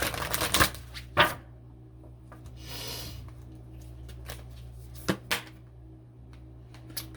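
Oracle cards being shuffled by hand in a quiet room: a few crisp riffling bursts, the loudest near the start and a couple more later, with soft rustles between them.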